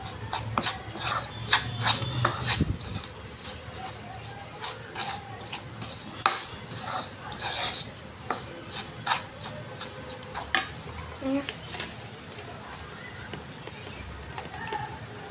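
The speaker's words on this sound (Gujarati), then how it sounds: "સારી રીતે મિક્સ કરી લઈશું સરસ રીતે મિક્સ થઈ જાય" A spoon rasps and scrapes through sticky date pickle masala in a bowl, a run of close, uneven rubbing strokes with occasional clinks, fairly quiet and with no voices.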